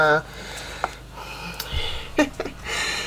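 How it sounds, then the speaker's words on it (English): A steady mechanical whine and hiss runs throughout, like a pressure washer cleaning a house exterior at some distance, with a few short knocks and rustles nearby. "he's pressure washing the house and making radical noises"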